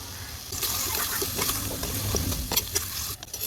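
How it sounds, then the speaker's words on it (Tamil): Chicken cooking in oil with green chillies and crushed pepper, a close, busy sizzle with stirring and scraping in the pan over a few seconds. "இந்த எண்ணெயிலே அஞ்சு நிமிஷம் சிக்கனை நல்லா வேக வச்சுப்போம்"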